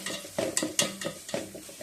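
Onions with ginger garlic paste are stirred in a frying pan, a spoon scraping and tapping against the pan in quick strokes over a soft sizzle, close and alone.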